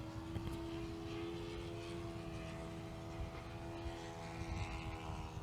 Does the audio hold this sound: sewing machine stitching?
no